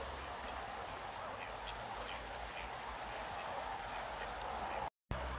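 Ducks quack faintly amid steady outdoor noise as a person approaches them, the calls scattered and distant under a constant background hiss.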